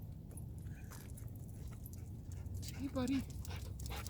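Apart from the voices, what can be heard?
dog whimpering and panting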